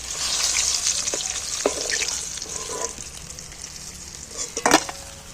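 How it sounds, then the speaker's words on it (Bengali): Fish head frying in oil in a pan as it is turned over, a close, busy crackle and sizzle with a few sharp clinks and scrapes of the utensil toward the end. "উল্টো পাল্টে ভালো করে ভেজে নিয়েছি একদম ভাজা হয়ে গেছে"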